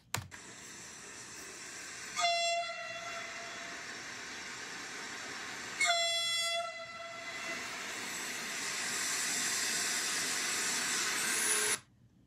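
A train rumbles steadily past with two loud, shrill horn blasts, then a continuous rolling roar and hiss that cuts off abruptly.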